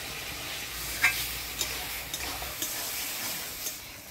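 Gera vegetable with slit green chillies frying in a pan on a Bengali village kitchen stove, giving a steady soft sizzle with a few faint stirring clinks, close and alone.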